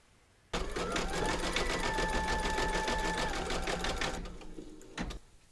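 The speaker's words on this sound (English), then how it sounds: "Now I'm going to pop your hoop into your machine and stitch round number 13, and that's going to zigzag around here" An embroidery machine stitches a zigzag round joining two segments of a hooped design, with a fast, even rattling run that starts abruptly, tapers off, then gives a brief final burst.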